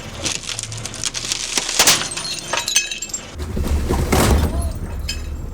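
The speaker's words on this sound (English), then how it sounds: "They both shattered on the front." Bulletproof glass car wheels crack and shatter in several bursts amid rumbling and crunching, with a louder breaking burst near the end.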